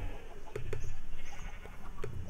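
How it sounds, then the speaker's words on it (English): Sheep in the video game Minecraft bleat in several short calls, about five spaced across a couple of seconds. The calls sit over a soft ambient background and no one talks. "I have flocks of green sheep over here too"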